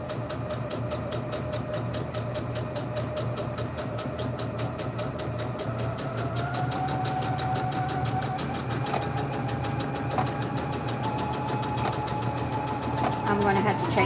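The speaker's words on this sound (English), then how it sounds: "all you do with the sewing machine, right, it does all the work for you. All you're doing is guiding the material in there" Sewing machine stitching fabric for a bandana bag, a steady mechanical hum running throughout under a person's talk, rising slightly louder near the end.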